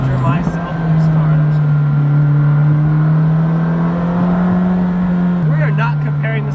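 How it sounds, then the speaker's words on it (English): A McLaren 620R's engine drones steadily from inside the cabin while driving, a loud sustained mechanical hum holding one pitch before a small shift near the end, with someone talking over it. "This car's actually like mechanically loud."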